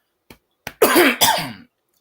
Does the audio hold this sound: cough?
yes